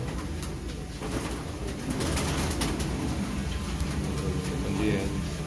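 Teddy pigeons coo and stir at a pigeon market in Shahdara, Lahore, soft repeated calls and occasional flutters close by, with people talking throughout.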